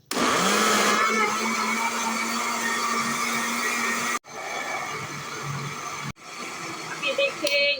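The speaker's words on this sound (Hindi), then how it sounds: "जूसर मशीन से हम इसको ग्राइंड करेंगे" A juicer machine grinding raw mango chutney whirs loudly and steadily near the mic, with its motor pitch shifting as it cuts off and restarts twice, and a voice briefly heard near the end.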